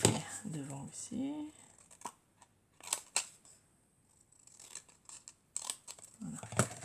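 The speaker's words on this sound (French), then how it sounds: "Je vais couper devant aussi." Scissors cutting fabric for trousers, intermittent crisp snips and rustles close by, interspersed with someone talking.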